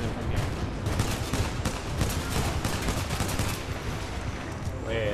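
Dense, sustained gunfire in the Titanfall 2 shooter game, rapid overlapping bursts of shots that continue loud and close for several seconds with barely a pause.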